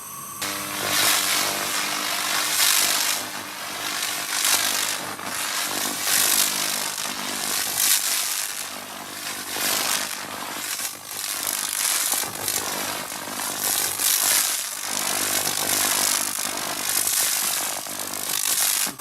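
An SLC-2030 laser cleaning machine strips fifty years of old rust and epoxy primer from metal, giving a loud, steady hiss and buzz with bright crackling texture that runs continuously and close throughout.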